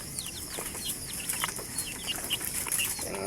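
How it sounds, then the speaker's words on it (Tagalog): Chicks and hens on a backyard farm, heard as dense, continuous high peeping with scattered clucks, steady and close, over a constant background hiss, with no talk. "ang ating mga sisiw."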